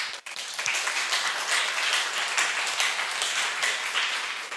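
A youth congregation at a Sunday church worship service breaks into sustained applause, many hands clapping in a thick, even roar that holds steady before tapering slightly.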